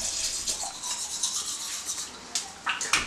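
A toothbrush with coconut oil scrubs teeth in quick, wet bristly strokes, close and fairly quiet, with a few sharper scrapes toward the end and no talking.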